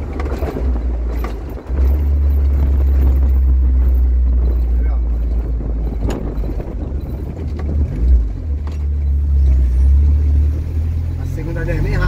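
Buggy Way 305CV dune buggy engine cruising steadily at 2,000 RPM and about 80 km/h, a loud continuous low drone with road and wind rumble while someone talks over it.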